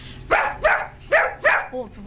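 A person's voice imitates a large dog barking, four loud woofs in a steady rhythm, close to the listener, finished by a short trailing yip.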